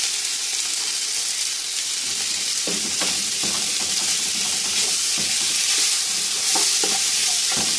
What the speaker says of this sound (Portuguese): Deixar fritar um pouquinho a linguiça calabresa aqui também para soltar a gordurinha dela